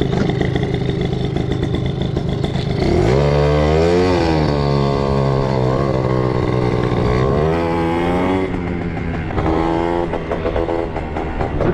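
An Italjet Dragster 180cc scooter engine runs loud and close, its buzzing note climbing and falling through several revs.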